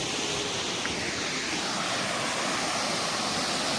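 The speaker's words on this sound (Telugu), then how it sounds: "వాటర్ ఫాల్స్ అంటూ వాటర్ ఫాల్స్ చూసుకోండి." A waterfall in Munnar roars as a constant dense rush of falling water, loud and unbroken throughout, with no speech.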